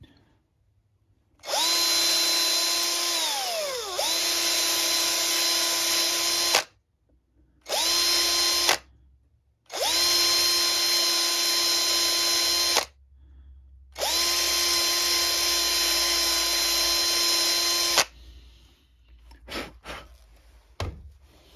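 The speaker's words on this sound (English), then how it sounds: "I'll take and clean it out with that drill bit a little more." A power drill bores out a wooden peppermill in several long bursts, the motor whine dipping under load, with short pauses between runs and a quiet stretch at the end.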